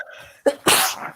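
A single close, loud human sneeze, a short sharp intake followed by a forceful noisy burst that trails off quickly.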